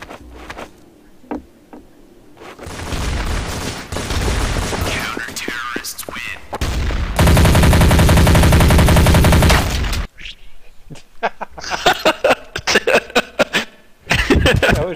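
Gunfire from Counter-Strike: Source comes in bursts amid the game's sounds, including a sustained loud rattling stretch in the middle and scattered sharp shots toward the end, with players laughing and chattering around it.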